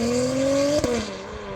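An Acura TLX Type S fitted with an IMR catted downpipe and OEM exhaust accelerates hard through the lower gears, a steady rising engine tone with a brief shift-like break partway through, loud and close with no talk.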